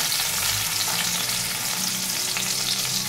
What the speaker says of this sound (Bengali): তেল গরম হয়ে গেছে, আমি রসুনটা দিয়ে দিচ্ছি